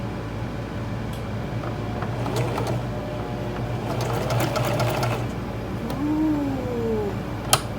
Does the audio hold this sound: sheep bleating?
no